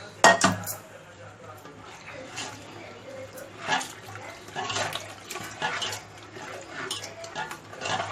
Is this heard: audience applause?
no